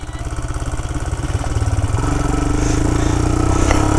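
Motorcycle engine, a Royal Enfield Himalayan, held back by engine braking on a steep off-road trail descent, giving a steady, close, rising throb that grows louder over the few seconds, with no talk.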